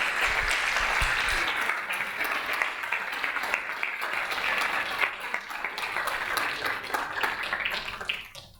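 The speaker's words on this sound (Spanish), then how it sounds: "Por favor, otorguémosle un gran aplauso a nuestros panelistas." Sustained applause from a seated audience honoring panelists at an academic event, a dense steady wash of clapping lasting several seconds before tapering off at the end.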